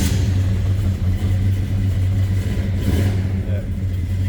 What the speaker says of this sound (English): That big block cranks right over.